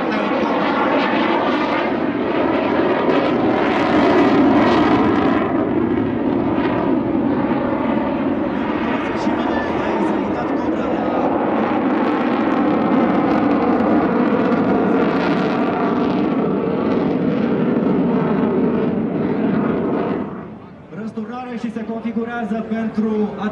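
MiG-29 fighter jet flying over Bucharest at an air show, a loud sustained roar that builds and holds for about twenty seconds before dropping off abruptly, with a commentator talking over it.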